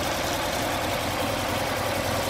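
A rebuilt 1964 Porsche 356SC engine with rebuilt carburetors and new plugs idles steadily, a continuous close mechanical drone with a fine ticking rhythm and no voices.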